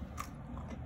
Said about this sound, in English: Oh, crunchy cucumber, so good.